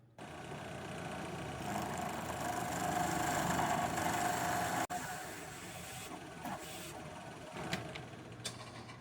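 A wood lathe runs steadily, turning a burl filled with resin, giving a continuous motor hum and whir that briefly cuts out, then resumes with a few faint knocks and scrapes.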